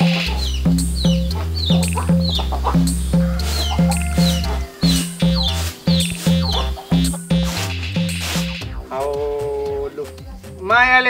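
A chicken in a village setting clucks repeatedly in short bursts over a loud, rhythmic backing of music, ending in a string of rising, squawking calls.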